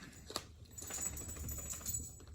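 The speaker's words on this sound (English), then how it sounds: "And let's shuffle these out here." A Messenger Oracle card deck is shuffled by hand, giving quiet, rapid papery ticks and riffles close by.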